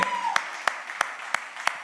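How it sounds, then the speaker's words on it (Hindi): Rhythmic clapping at a Mirzapur Season 3 trailer launch event: about six sharp, evenly spaced claps over a steady crowd murmur, fairly close and moderately loud. "जोरदार तालियां हो जाए"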